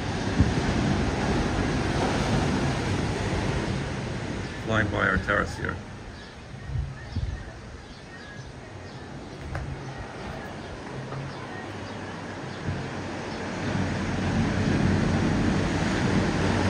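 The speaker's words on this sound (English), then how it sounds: "Yeah, we hear the ocean." Ocean surf rolls and washes steadily below a hotel terrace in Los Cabos, with wind buffeting the microphone and people talking over the steady roar of the waves.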